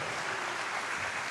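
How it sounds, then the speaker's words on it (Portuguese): A congregation at a church congress applauds, a brief, even wash of many hands clapping at low, steady volume. "Vamos aplaudir."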